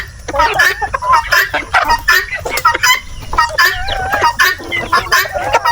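Several chickens cluck and squawk up close in a busy, continuous chatter, with overlapping calls throughout as they eat papaya.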